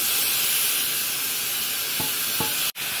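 Tomatoes sautéing in masala with leaves in a pan, a dense continuous hiss and sizzle at close range, with a couple of soft stirring scrapes near the end and a brief dropout.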